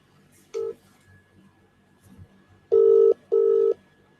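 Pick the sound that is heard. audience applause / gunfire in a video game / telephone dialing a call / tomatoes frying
telephone dialing a call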